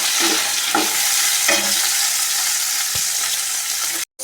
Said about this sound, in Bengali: এবার আমি ক্যাপসিকামগুলো দিয়ে দিচ্ছি, ক্যাপসিকামগুলো সব দিয়ে দিলাম। ওইটা একটু নেড়ে নিই।